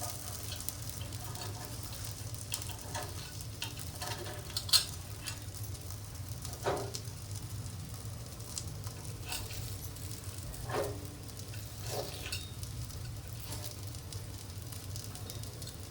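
Masala paddu cooking in a pan make a soft, continuous sizzle with a few faint clicks and taps scattered through it, and no voice is heard.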